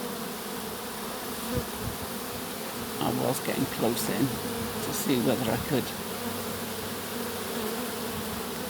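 Continuous buzzing of a large honeybee swarm circling above and around its hive fills the air, with someone speaking close by over the drone.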